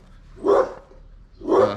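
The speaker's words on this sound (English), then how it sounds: "We're quieting the dog with some bread." A dog barks twice, loud and close, each bark short and separated by about a second of quiet in a home.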